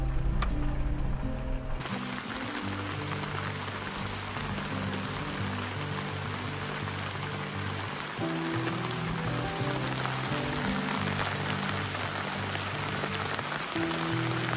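Steady rain falling at a pine-wooded campground, a continuous patter on surfaces lasting throughout, with a faint musical tone underneath.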